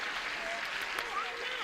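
Studio audience at a game show claps in a steady, moderately faint burst of applause with a few voices mixed in over it.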